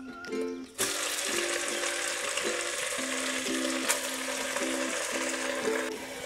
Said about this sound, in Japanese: わかめを炒めます。